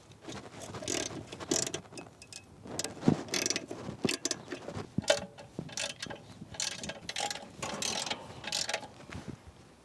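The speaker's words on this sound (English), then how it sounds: "I got a little socket set here. Let's tighten up these pillars." A small socket wrench ratchets while tightening the pillars of a Topens gate opener outdoors, giving quiet, irregular bursts of clicking with faint wind in the background.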